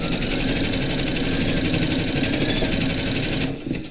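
An embroidery machine stitches a placement outline for batting on a large skeleton applique design, a loud, steady mechanical hum with rapid needle rhythm that stops abruptly just before the end.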